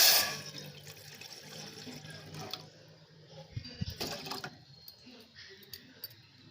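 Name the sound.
pouring water into a cooking pot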